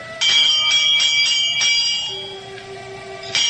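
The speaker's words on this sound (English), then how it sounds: "I reach out and pull the bell." A pull-bell at a great castle door rings for a radio drama, with several bright chimes struck in quick succession that fade into a lingering hum, then strike again.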